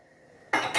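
A lid goes onto a pot of Thai green curry after a quiet moment, with two sharp metallic clatters close by in quick succession.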